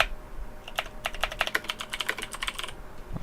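Keys clatter on a computer keyboard as a share description is typed on a Windows Server 2012 machine, a quick close run of crisp clicks lasting about two seconds.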